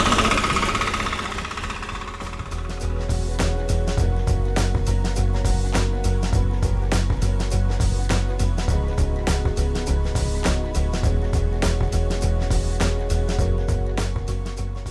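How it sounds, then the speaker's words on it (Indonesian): A 9 HP FTL 720D diesel farm machine engine runs steadily throughout, with a rapid, hard, knocking rhythm of close, loud firing pulses and no talk over it. "FTL 720D ini dia memiliki mesin penggerak diesel 9 HP ya"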